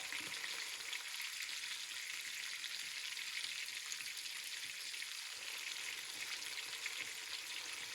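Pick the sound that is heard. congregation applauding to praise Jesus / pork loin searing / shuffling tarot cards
pork loin searing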